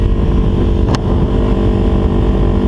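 2012 Kawasaki Ninja 250 motorcycle engine running loud and steady up close, with one brief sharp click or tick partway through.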